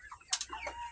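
Heritage layer chickens on a breeding farm give a few short, close clucks and soft calls, with a couple of brighter peaks in quick succession.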